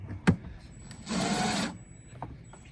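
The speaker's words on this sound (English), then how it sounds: "I'm going to use these little screws. I'm going to screw it in so it stays" Small screws driven in to mount an outdoor wall light fitted with a little rubber washer, giving a single close rasping, grinding burst of about three-quarters of a second, set off by brief knocks before and after.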